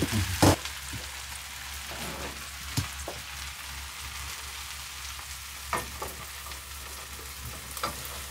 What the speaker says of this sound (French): c'est de mettre l'oignon dans la casserole sans en mettre à côté